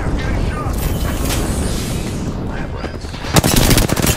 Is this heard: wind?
no